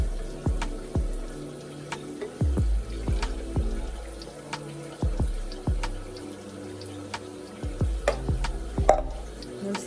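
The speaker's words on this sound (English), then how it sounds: "And then I just mix it up a little bit, almost like stirring it." Beet pre-workout juice being stirred and mixed, giving repeated liquid swirls and small clinks in a steady uneven rhythm, close and moderately loud with no talking.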